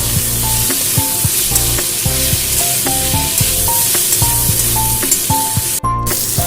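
Potatoes and finely sliced onion frying in a pan, a steady bright sizzle broken by repeated scraping and clacking of a spatula stirring the mix, close and loud with no talking.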